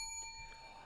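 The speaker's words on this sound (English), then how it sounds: "I don't have a silver hammer, but I have a silver bell." A small silver bell is struck once, giving a bright, clear ring with several sustained overtones that fade slowly over the second. It sounds close and fairly soft, with no voices.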